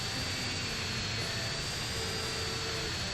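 A jet plane's engine with thrust vectoring in a GTA video game makes a steady, loud roar and whine that fills the whole stretch without a break, with no talking over it.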